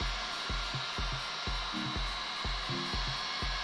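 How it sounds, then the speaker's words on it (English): Hot air blower heating a motorcycle wheel hub to free a bearing, a steady whooshing drone with a rhythmic low thumping pulse underneath, close and continuous. "Right now I'm heating up the hub."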